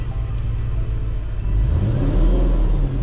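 A manual Audi C7 S6 on the road with a failing driveshaft: a steady low engine rumble and drivetrain drone, growing louder and heavier about halfway through as the car pulls harder, with no one talking.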